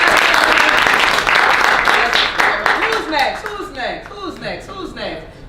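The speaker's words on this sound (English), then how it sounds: "Let's give Andrew a round of applause." Audience applause at a ministry talk, loud dense clapping that thins into scattered claps while a voice speaks over it.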